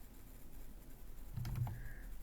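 Soft keystrokes on a computer keyboard, a short faint burst of typing over a quiet room hiss with a brief higher tone near the end.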